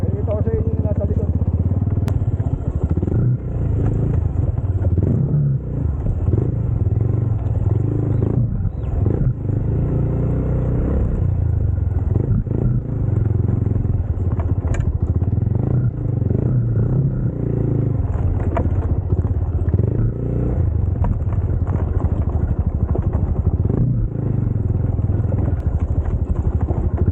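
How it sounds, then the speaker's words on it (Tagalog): A motorcycle set up for enduro rides a rough dirt road, its engine rumbling steadily and close with bumps and scrapes throughout, and a voice talks over it at times. "Yung motor natin, ginawa ko enduro."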